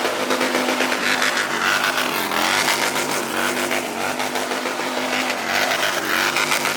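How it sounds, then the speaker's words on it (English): A Harley stunt bagger runs with a Delphi setup, Thundermax tuning and HPI exhaust, giving a loud, steady engine drone that holds close for the whole stretch, with slight changes in pitch but no clear revving. "This Delphi combined with the Thundermax and the HPI exhaust sounds absolutely sick."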